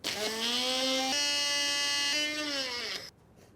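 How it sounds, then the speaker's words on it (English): An electric grinder runs on roasted cumin seeds, a loud steady high-pitched whine with rich harmonics for about three seconds, shifting pitch slightly twice as the load changes, then cutting off abruptly into near silence. "Time to grind."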